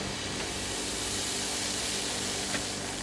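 Dosa batter poured from a ladle onto a hot pan gives a steady, fairly loud hiss and sizzle that holds evenly throughout, with no voices.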